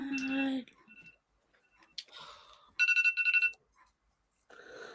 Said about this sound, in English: Yeah, that was my timer.